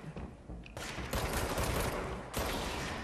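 Rapid gunfire from the video game Control, a dense sustained fusillade of shots that swells louder partway through and again near the end, close and continuous with no talk.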